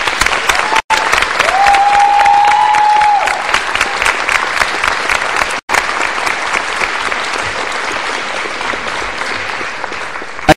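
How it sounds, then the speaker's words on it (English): An audience at a culinary school end-of-year celebration gives a long, sustained round of applause, loud and dense clapping throughout, with a brief tone near the start. "Let's all give her a round of applause."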